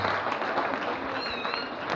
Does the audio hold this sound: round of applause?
yes